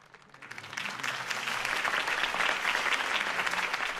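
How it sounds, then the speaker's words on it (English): Crowd applause in the Batman Telltale video game after Harvey Dent's campaign speech, a dense wash of many clapping hands that swells within the first second and holds steady at moderate distance. "If only Mr. Wayne, my campaign's largest backer, could have heard that applause"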